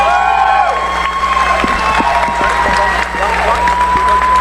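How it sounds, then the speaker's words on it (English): A tournament crowd around a fighting ring applauds and cheers, continuous clapping with whoops and shouts layered over a steady hum, loud and lively throughout, with a voice over it. "A round of applause in the ring."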